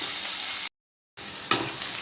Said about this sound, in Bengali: একটু লাল লাল করে ভেজে নেব আলুগুলো।